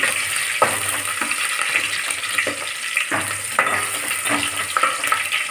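Onions frying in oil in a pan for upma, a steady crackling sizzle with periodic stirring scrapes, close and continuous with no talk.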